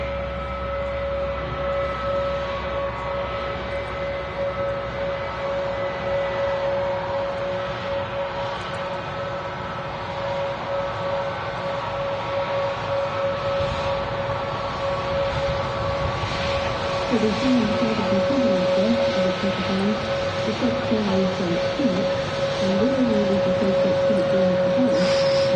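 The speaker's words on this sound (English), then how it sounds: "You can hear the howl in the background of the Pratt & Whitney" Pratt & Whitney 1100G engines on a Turkish Airlines A321neo at Manchester Airport give a steady, loud tonal howl that holds for the whole stretch, with faint voices talking in the background.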